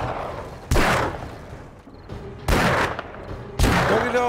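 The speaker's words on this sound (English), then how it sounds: "Wow, two shots." Three loud gunshots in the video game 7 Days to Die, spaced about a second apart, each a sharp blast with a ringing tail.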